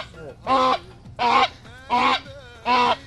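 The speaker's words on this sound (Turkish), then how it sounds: "Sera kazı da diğer kazlardan çok da farklı değil" Four loud, nasal honks from a goose, evenly spaced about half a second apart, close by.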